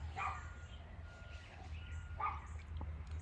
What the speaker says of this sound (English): with Becca the Barky Barker in the background.